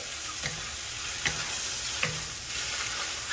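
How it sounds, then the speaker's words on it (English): Rice noodles stir-fried over high heat in a wok, a constant crackling sizzle with three distinct scraping tosses of the spatula spaced about a second apart, close up with no talking. "I crank the heat a little higher. Add in the noodle in. Give them a quick stir."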